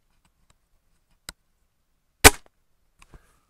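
A Gamo Bone Collector Swarm air rifle fires a single sharp crack into a dirt pile, loud and close, preceded by a fainter click and followed by a couple of small ticks.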